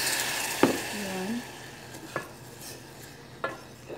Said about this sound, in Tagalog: magtunaw tayo ng asukal at saka konting tubig